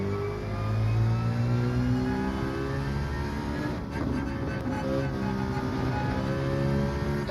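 Genesis G70 Gr.4 race car in Gran Turismo 7 at the Nürburgring GP, engine revving up through the gears in a steady rising whine, then a brief dip at a shift before climbing again.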